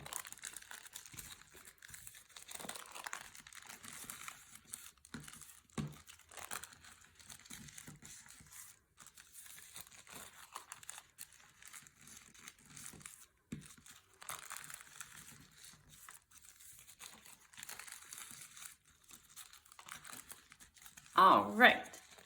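Coffee filter paper being folded front to back by hand, soft crinkling and rustling at a low level, with brief louder crumples near the end.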